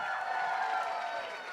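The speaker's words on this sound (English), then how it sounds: "let's get one more round Let's of give it applause" Steady applause from an audience fills the space, cheering the junior dancers at a college South Asian cultural show, a dense, even wash of clapping that stays loud throughout.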